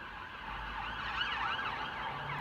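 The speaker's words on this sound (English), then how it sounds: "holy sirens" Emergency vehicle sirens wailing at a distance on a clear day, rising and falling tones sweeping over a low traffic rumble, faint and steady with no speech.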